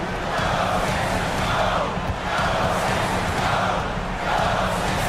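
Crowd roar from a basketball video game in a Cyber Stars League match, a steady continuous cheer swelling in waves without pause, with no clear speech over it.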